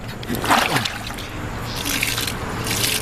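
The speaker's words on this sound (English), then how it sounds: "Add a little water." Water trickles and splashes as it is poured into a cement mix, a short pour followed by softer sloshing, close by.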